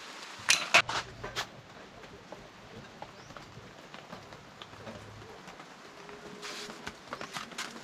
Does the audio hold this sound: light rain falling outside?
yes